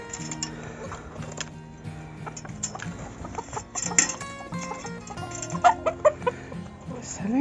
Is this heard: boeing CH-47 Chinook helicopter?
no